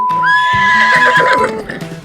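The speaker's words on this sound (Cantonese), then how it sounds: "因為斑馬同馬嘅叫聲都係一樣嘅。" A zebra call that sounds like a horse neighing: one drawn-out, high whinny lasting about two seconds, loud and close and heard on its own, with low snorting pulses underneath as it fades.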